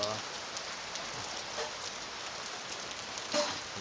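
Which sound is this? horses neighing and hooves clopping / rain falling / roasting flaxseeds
rain falling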